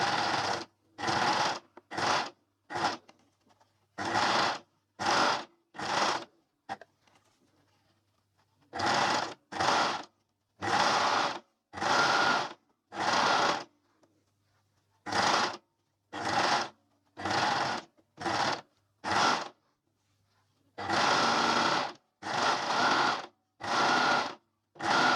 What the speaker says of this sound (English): we're going to understitch, as we always do, through the seam allowances and the facing